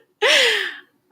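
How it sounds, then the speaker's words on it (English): A person yawns once, a short breathy rising-then-falling vocal stretch of under a second, close and clear against silence. "Just because I'm yawning doesn't mean I go to sleep."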